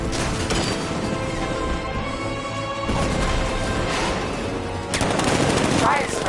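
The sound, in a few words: tank riot suppressor gunfire in Batman Arkham Knight video game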